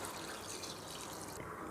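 Water pours steadily onto rice for paneer biryani, a continuous close splashing trickle with no talk.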